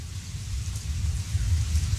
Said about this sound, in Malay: Dengar bunyi hujan jatuh ke bumi